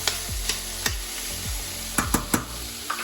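Garlic frying in a pan for an aubergine stifado, a steady soft sizzle broken by repeated sharp clinks and scrapes of a utensil stirring against the pan, with no talking.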